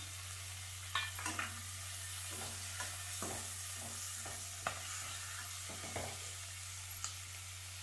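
A spoon stirs garlic paste with a handful of coriander and mint leaves frying in a pan for Karnataka-style ghee rice, a steady sizzle broken by a series of scraping stirs, close and without talk.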